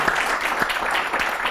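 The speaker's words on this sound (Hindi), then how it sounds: "पूरे देश नाम की तरह ताली मारो" Audience clapping and applause at a talk-show style event, a steady, fairly loud patter of many hands with rhythmic swells, alone without speech.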